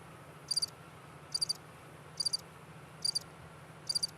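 Crickets chirp in short, evenly spaced bursts of quick pulses, about one burst per second, standing out clearly above a faint steady hiss with no voices.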